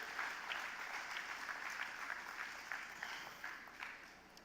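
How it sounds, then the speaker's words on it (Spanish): A church congregation claps for the Lord in a steady, fairly faint wash of applause from many hands. "Venga, dale un fuerte aplauso al Señor."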